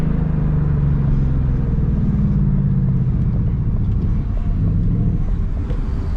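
Ford Mustang GT engine driving fast through city traffic, a steady loud close rumble with a low droning note that wavers and shifts as the car speeds along.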